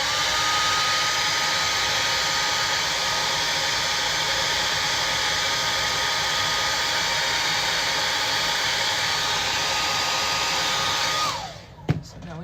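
A hair dryer blows steadily and loudly at close range to dry paint on a hand-painted Easter bunny gnome figure, then switches off abruptly near the end with a brief knock.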